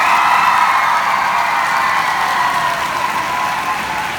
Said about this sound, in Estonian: Suur aplaus kõigile!